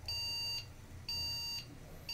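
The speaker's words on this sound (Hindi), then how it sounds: "ये देखो रैम का बीप कर रहा है।" An ASRock G41M VS3 motherboard with a RAM error gives out repeated long electronic beeps, each about half a second with short gaps, steady and close over a low hum.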